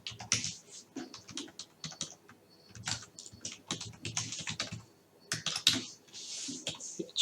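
Keys on a computer keyboard clatter rapidly and unevenly as CSS and HTML code is typed, close and crisp, with short pauses between bursts and no talking.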